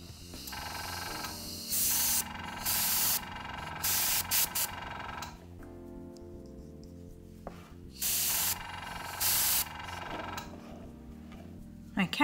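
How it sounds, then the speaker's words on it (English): An airbrush sprays alcohol inks in short hissing bursts of a second or two, separated by brief pauses, with soft bumps of handling in the quieter gaps. "I'll pop my airbrush to one side, and I'm just going to switch it off so it doesn't keep making noises on us"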